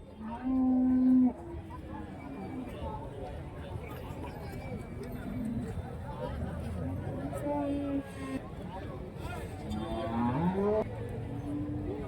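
Cows mooing at a busy cattle market, a loud nearby low moo at the start followed by more bellows amid a constant crowd babble and talking.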